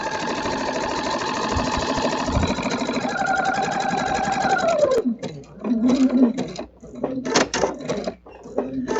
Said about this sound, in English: It's just long straight stitching, and when I get to a corner I stop with the needle down, turn, and continue stitching.